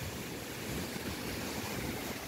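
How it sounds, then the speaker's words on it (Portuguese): Strong wind roars steadily as rain approaches, a dense continuous rush buffeting the microphone without letting up, loud and close, with no voices. "O vento é forte, forte, forte."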